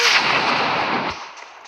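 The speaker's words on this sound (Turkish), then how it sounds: "Hocam bomba atmayın çok korkuyorum ya." A bomb goes off in an online shooter game: a loud, close, broadband blast roars for about a second and then fades quickly.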